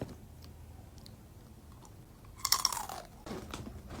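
Crunchy curls snack being chewed close up, a quiet stretch and then a loud burst of crisp crunching bites followed by softer chewing, with no talking.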